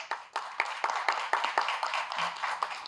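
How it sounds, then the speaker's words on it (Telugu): An audience at a Telangana public gathering claps in scattered, uneven bursts that sound fairly close and moderately loud, with sharp individual hand claps rather than a full roar. "రైట్ అయితే గట్టిగా చప్పట్లు కొట్టండి."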